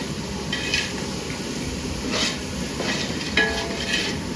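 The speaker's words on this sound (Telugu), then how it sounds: "బాగా ఫ్రై చేయాలి" A spoon scrapes and stirs in a large pot of bagara rice or chicken curry over a steady sizzle of frying, with a few louder metallic scrapes breaking through the crackle.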